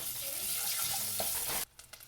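Curry leaves dropped into hot oil with urad dal and dried red chillies give a loud, bright crackling sizzle that cuts off abruptly near the end, leaving a few faint pops.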